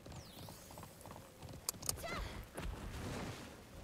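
Horse hooves trotting in the video game Alicia Online, a soft uneven clip-clop at moderate distance, faint under game ambience with a few brighter chime-like accents, no talking.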